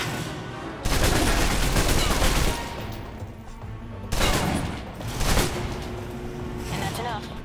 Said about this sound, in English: the SMGs can help clear the room quickly